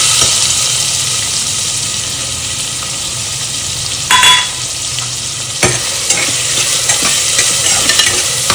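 Onion frying with spices in a pressure cooker, a loud continuous sizzle with a few sharper scrapes of a spoon stirring.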